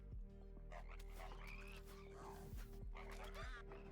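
Cartoonish frog croaks from defeated frog units in the video game Hero's Hour, several quick croaks in a row over steady game background noise and music.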